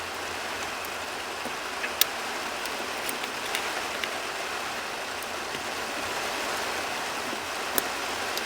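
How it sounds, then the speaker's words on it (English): Steady rain pours down on a rainy day while a Toyota 4Runner sits parked, a dense even hiss filling the scene with a few sharp droplet ticks scattered throughout. "I can't really tell if this rain is going to sound good on camera or not."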